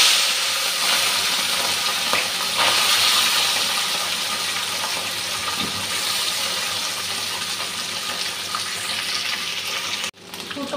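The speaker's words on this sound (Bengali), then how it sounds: "তেলটা গরম হয়ে গেছে, নুন হলুদ মেখে রাখা মাছটা দিয়ে দিচ্ছি।" Small turmeric- and salt-marinated fish frying in hot oil give a steady, bright sizzle that holds evenly for about ten seconds, with faint clatter now and then before it cuts off abruptly.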